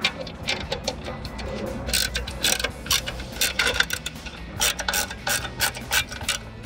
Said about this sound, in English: gotta open up the computer so we can install the chip. So, take out these screws.